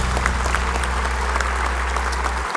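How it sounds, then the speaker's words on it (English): A hall of fame ceremony audience applauds a 2018 inductee with a steady, full round of clapping in a large hall, a low hum underneath that stops near the end. "Please join us for a round of applause for 2018 inductee Tom"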